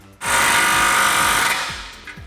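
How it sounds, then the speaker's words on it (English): A power tool drives a 15mm socket to tighten the driver's side exhaust clamp during a Camaro AWE axle-back exhaust install, producing a single close, steady whirring burst of about a second and a half. "we'll take a 15mm socket to tighten down the clamp on our driver's side"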